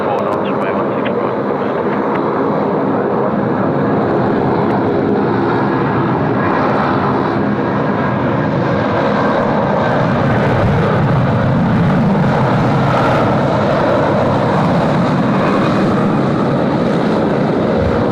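Airbus A350 in Star Alliance livery on its takeoff roll down Sydney Airport runway 16 right, a loud sustained engine roar with rumble and wind buffeting, a voice talking over it.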